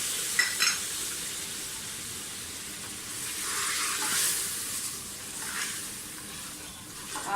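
Masala for mutton shorba sizzles in a pan after a couple of spoonfuls of water go in, a steady hissing fry with a few louder bursts of steam and stirring, fairly quiet and without talk.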